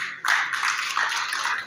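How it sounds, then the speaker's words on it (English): Audience applause at an honorary doctorate ceremony in New Delhi, a steady wash of many hands clapping that starts abruptly and holds at an even level with no voices. "Can I have a round of applause for all of you who are sitting here?"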